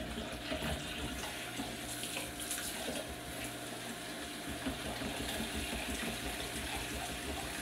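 Hot water runs steadily from a kitchen tap while chicken is being cooked and the room cleaned, a continuous broadband splashing rush at moderate level with no voices over it.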